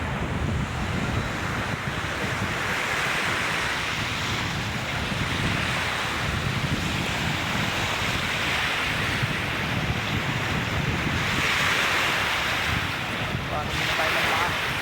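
Ocean surf washes continuously onto the shore, a steady roar mixed with wind rushing across the microphone, close and loud throughout.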